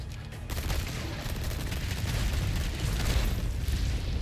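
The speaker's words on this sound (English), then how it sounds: "they explode" Dense rumbling blasts and booms from the Resident Evil 4 remake Separate Ways DLC roll continuously at close range, with no talk over them.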